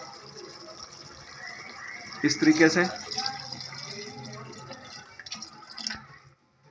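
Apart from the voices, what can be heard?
water poured into pot of chicken shorba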